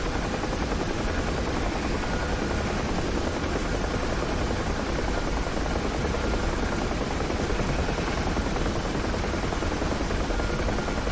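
A UH-1H Huey helicopter in the DCS flight simulator, flown over Dubai, with its rotor and turbine giving a steady, loud, dense broadband roar that runs unbroken throughout and has no voices over it.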